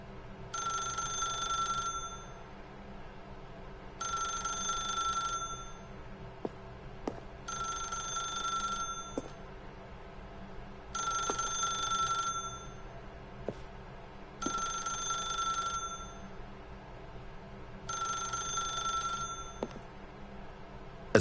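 A telephone in the video game The Stanley Parable rings in six evenly spaced bursts of a bright, trilling bell, each lasting about two seconds with pauses between them, heard alone over a low steady hum.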